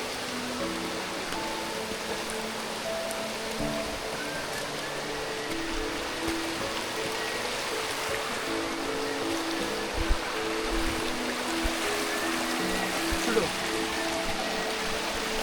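Clear mountain stream on the Kudremukh trek, a continuous broadband rush of flowing water close by, with faint voices mixed underneath.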